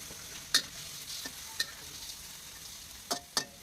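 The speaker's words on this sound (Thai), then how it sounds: "เราก็จะใส่กุ้งลงไป แล้วก็จะผัดให้กุ้งสุกในระดับหนึ่ง" Shrimp stir-fried with garlic in a pan for stir-fried water lily stems with shrimp, giving a quiet steady sizzle with a few sharp scraping clicks of the spatula, close and alone.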